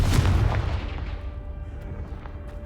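A Confringo blast spell in Hogwarts Legacy, one deep booming burst right at the start that rumbles and fades away over a couple of seconds.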